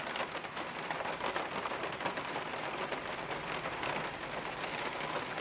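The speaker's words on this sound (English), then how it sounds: "hearing rain on the roof, especially when it's not super windy and the rain's just pretty much coming straight down." Steady rain falls straight down onto the roof of an off-grid cabin on a cold, windless day, an even patter of drops that continues unbroken with no voices.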